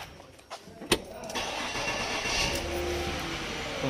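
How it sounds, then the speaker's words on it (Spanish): A 2012 Ford Fusion that stalled on the road cranks with a couple of sharp clicks and a bang, then catches and settles into a steady mid-pitched idle, close to the microphone. "el auto ya encendió"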